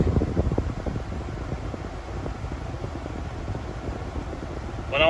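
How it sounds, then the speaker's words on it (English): Cooling fan running steadily in a 2000 Toyota Sienna with the hood open while the A/C runs on max, a constant close whooshing drone with low rumble, heard alone and continuous throughout. "right now the car stays, but the hood is open and the fan is running"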